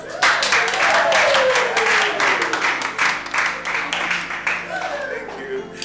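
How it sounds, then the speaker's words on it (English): Guests at a party break into a round of applause that swells and then tapers, heard under a voice and background music. "A big round of applause"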